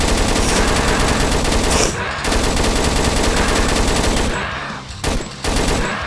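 Rapid automatic gunfire in the Roblox Zombie Arena game, dense and loud bursts that stop briefly around two seconds in and again near five seconds before resuming.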